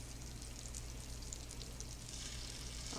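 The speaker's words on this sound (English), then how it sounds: "when you start hearing the sizzle, like I can hear right here, I'm going to start dropping my meatballs in" Meatballs for Swedish meatballs sizzle in a hot skillet with a steady, continuous crackling hiss, close and moderately loud, unbroken by talking.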